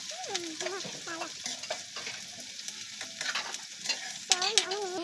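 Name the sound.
onions frying and being stirred in oil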